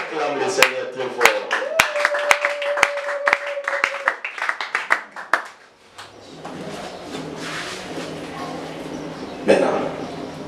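Church congregation clapping in sharp bursts that swell into loud cheering and acclaiming voices, lively and crowded in a worship hall.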